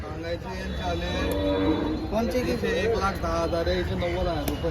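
A Gir cow moos in long, drawn-out calls nearby at a cattle market, with people talking in the background throughout.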